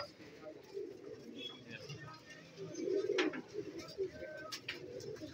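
Fancy pigeons coo softly and repeatedly inside Raja Pigeon shop on Jamia Masjid Road, Rawalpindi, a low murmuring chorus with someone talking over it.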